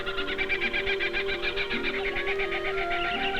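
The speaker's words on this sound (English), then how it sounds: "The cries are mostly from birds like the kookaburra." Loud, rhythmic cackling kookaburra cries pulse rapidly and continuously, close by, layered over other steady bird calls in an Australian eucalyptus forest.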